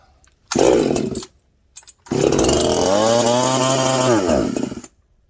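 A Husqvarna 346XP chainsaw with a suspect carburetor fires in a short burst, drops out, then catches again and runs loudly at close range. It revs up and back down for a couple of seconds before cutting off abruptly.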